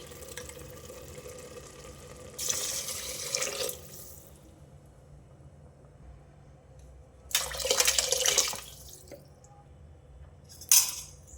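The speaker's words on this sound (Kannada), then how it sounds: "ಇಲ್ಲಿ ಬೇಯಿಸ್ಕೊಂಡಿದ್ನಲ್ಲ ಸೊಪ್ಪನ್ನ, ಅದೇ ವಾಟರ್ನ ಹಾಕ್ತಾಯಿದ್ದೀನಿ ನಾನು." Spinach cooking water poured into a pot of rice, heard as two distinct bursts of pouring and splashing liquid with a short third splash at the end, separated by quiet kitchen stretches.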